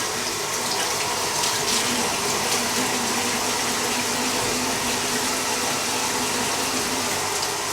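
Kale is rinsed under running tap water, a steady loud continuous splash and hiss from close by, with no talk.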